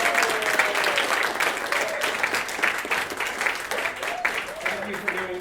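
An audience at a magic show claps and cheers in a steady, dense burst of applause, with voices calling out through it.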